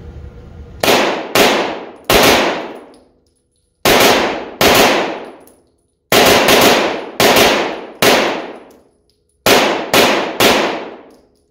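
A Stribog SP9A3 9mm carbine fires loud, sharp shots in quick bursts of two or three, with short pauses between groups and ringing decay after each report.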